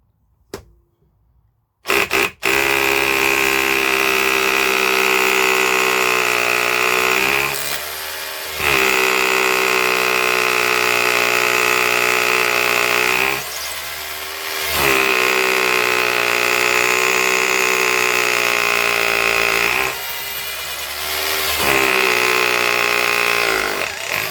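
A cheap SDS rotary hammer drill bores into masonry with a 7mm masonry bit, a loud close whining rattle in several long bursts separated by brief pauses, no talking.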